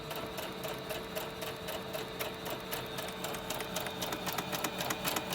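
A sewing machine stitching a pleated fabric face mask, a steady fast mechanical rattle of needle strokes running continuously at close range, fairly quiet, with no voices.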